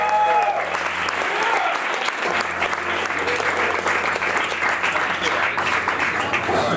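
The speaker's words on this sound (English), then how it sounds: "So round of applause for these guys." A concert crowd at the Deaf Institute applauds loudly and steadily. Dense clapping fills the whole stretch, with a few voices mixed in.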